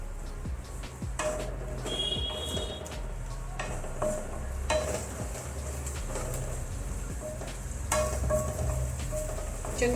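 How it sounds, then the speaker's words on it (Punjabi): Masala spices stir-fried over a high gas flame for a tinda sabzi, with a soft steady sizzle under repeated scraping and clinking of a spoon against the pan. "ਮਸਾਲੇ ਨੂੰ ਹੁਣ ਹਾਈ ਫਲੇਮ ਤੇ ਭੁੰਨ ਲੈਨੇ ਆ"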